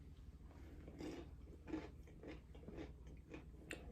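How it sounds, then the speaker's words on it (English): Chocolate pecan turtle candy is crunched in a quiet room, with soft close bites and about five or six chewing crunches in an irregular rhythm, faint and alone. "Do you hear that crunching?"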